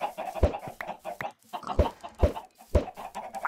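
Chickens cluck in the Minecraft video game after a thrown egg spawns them, several short clucks and pops in a loose rhythm, with someone talking throughout.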